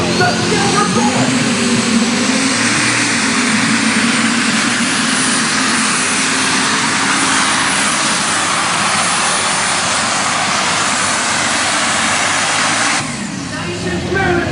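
An unlimited super stock pulling tractor at a tractor pull in Wilmington, Ohio gives a loud, steady roar at full throttle, constant and harsh for the whole stretch, with an announcer heard under the engine noise.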